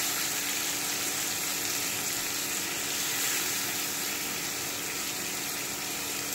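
Potatoes and onions fry in a pan for a potato-and-onion chow mein, giving a faint, steady, even sizzle that runs throughout with no talk.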